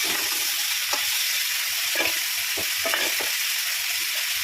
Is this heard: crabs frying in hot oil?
yes